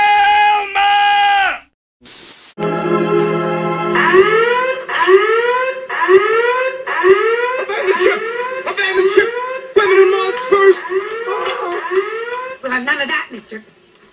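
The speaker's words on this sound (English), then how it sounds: "What the hell is that noise? That was my virgin alarm." Comedic cartoon alarm blaring loudly, a few steady tones first and then a long run of repeated rising whoop-like wails in a quick, even rhythm until the end.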